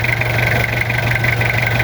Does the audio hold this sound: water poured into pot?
no